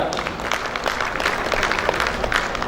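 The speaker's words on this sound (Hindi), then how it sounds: "एक बार जोरदार तालियां" Sustained applause from a crowd at an oath ceremony, steady dense clapping throughout without a break.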